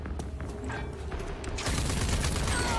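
Rapid gunfire from the video game Rage 2: a string of sharp shots crackles through the first half, then a dense, louder burst of fire fills the rest of the clip.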